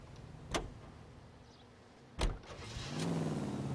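A car in L.A. Noire video game has a door clunk and a sharp thump, then the engine turns over and settles into a low idle, faint and without talk.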